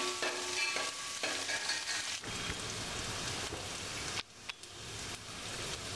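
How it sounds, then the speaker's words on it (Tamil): Onions and curry leaves sautéing in a pan for soya masala, a steady close sizzle with stirring scrapes and a few brief pauses. "கருவேப்பிலை வெங்காயம் போட்டு வதக்கிங்க வெங்காயம் வந்து நல்லா ப்ரௌன் கலர் ஆகிற வரைக்கும் வதக்கணும்"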